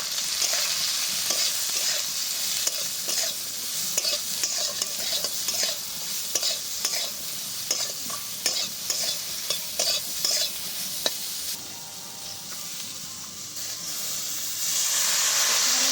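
Pointed gourd (potol) fries in a pan with a loud, steady hiss, while a spatula stirs it with repeated scraping strokes through most of the stretch. The sizzle carries on alone near the end.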